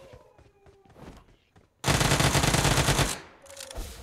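A loud sustained burst of automatic gunfire in the BGMI battle royale game rattles for over a second, following quieter chatter and softer game sounds, then a few lighter shots trail off.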